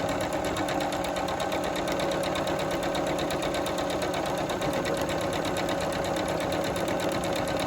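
Sewing machine stitching fabric, a steady, fast, even mechanical whirr and rapid needle chatter running continuously at moderate volume, heard alone.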